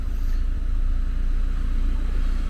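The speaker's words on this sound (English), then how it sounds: "the car is ticking over" A 2020 Nissan with a 1.5 dCi diesel engine, repaired after a crank-no-start fault with worn injectors at 41,000 miles, ticks over at idle in a steady, close, low rumble.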